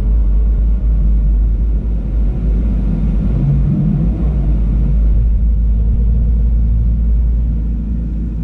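A twin-turbo Camaro SS drag-racing at a track gives off a loud, continuous low engine rumble that holds steady and swells slightly with faint mechanical whine, no voices.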